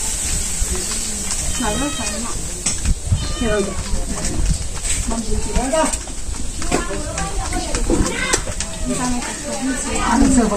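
Cat meowing repeatedly in a home, several drawn-out meows and calls at irregular intervals, close by, mixed with people talking.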